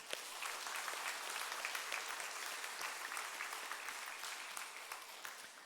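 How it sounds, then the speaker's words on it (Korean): Congregation applauding during a Sunday worship service at a Korean church in Gwangju, dense even clapping that holds steady and fades slightly toward the end, with no talking. "서로 박수 한번 해주십시오"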